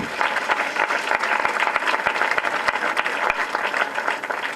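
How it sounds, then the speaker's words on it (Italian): Guests at a Lions Club gathering break into lively applause, dense close clapping with individual claps standing out, strong and sustained for the whole stretch. "Applauso."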